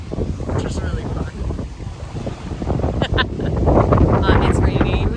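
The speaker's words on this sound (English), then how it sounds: "It's raining, it's windy, it's overcast." Strong wind at sea on a cruise ship at the edge of a hurricane, in rain, roars and buffets the microphone in a continuous, loud rush with gusts rising toward the end.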